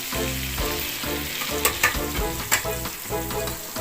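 Chicken feet hit hot oil in a pan and fry with a loud, steady sizzle, broken by a few sharper crackles and spatters; no one speaks.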